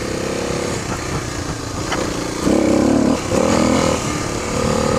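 A motorcycle engine labors and revs on a steep, rocky off-road hill climb, loud and close, with two stronger surges of throttle partway through.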